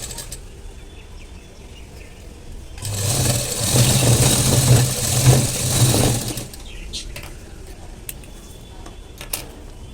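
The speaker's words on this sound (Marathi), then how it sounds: "इथे शिलाई पक्की करून घ्या, जेणेकरून ते निघणार नाही" A sewing machine runs in one continuous burst of about three seconds, whirring and clicking as it stitches the lining of a katori blouse front. The burst is close and loud, with a quiet room before and after.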